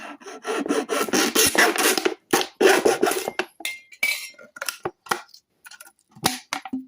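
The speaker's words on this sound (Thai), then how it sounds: "เราก็ตัดไปเลยครับสองรูสามรูก็ได้ครับ ตัดเลยครับ" Plastic water bottle having two or three holes cut into it, with close, loud bursts of scraping, rasping and crackling plastic in uneven strokes, separated by short pauses.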